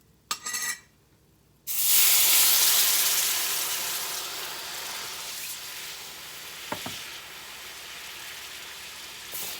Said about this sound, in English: We're going to start off with a half a can of this beef broth.